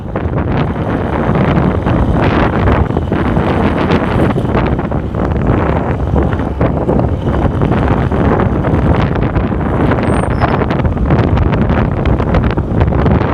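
Strong breeze buffeting the microphone outdoors along a road to Fantasy World, a loud continuous rumbling rush with gusty surges, no voices.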